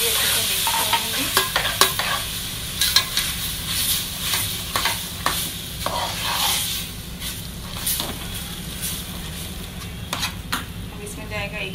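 Chicken stock is stirred into flour roasted in a pan, making a continuous sizzle broken by repeated scraping and clinking strokes of a utensil against the pan. A voice is faintly present at times.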